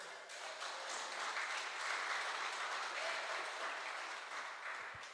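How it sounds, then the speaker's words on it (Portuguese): A church congregation applauding the Lord, a sustained, even wash of many hands clapping heard from some distance, quiet and continuous for about five seconds with little talk. "Você pode aplaudir o Senhor?"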